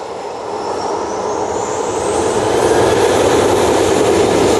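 Jet engines on an airliner at Manchester Airport spool up, a broad roar building steadily in loudness while a high whine climbs in pitch over a few seconds, with no talking.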